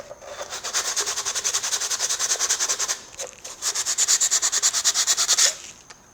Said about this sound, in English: I'm going to go ahead and sand it down just to make it perfect